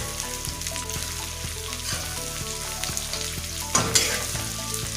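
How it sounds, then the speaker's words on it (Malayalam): Sliced onions sauté in a pan for chicken curry, a constant sizzle over faint background music, with a spatula scraping and knocking the pan in a brief burst near the end. "ഉള്ളി നീളത്തിലരിഞ്ഞത്, സവാള. ഇതെല്ലാം കൂടി നന്നായിട്ടൊന്ന് വഴറ്റിയെടുക്കാം."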